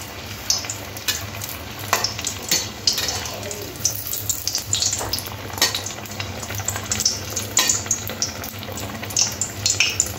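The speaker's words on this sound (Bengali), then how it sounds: "তেলে একটা একটা করে চপগুলো ছেড়ে দেব" Chops fry in hot oil with a steady crackling sizzle, and sharp pops and spatters rise above it as the pieces are dropped in one at a time. The oil is very hot.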